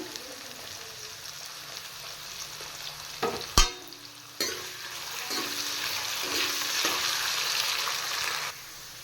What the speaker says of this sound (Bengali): এবার এই তেলে আমি কেটে রাখা আলুগুলো ভেজে নেব